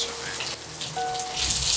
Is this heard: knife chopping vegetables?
no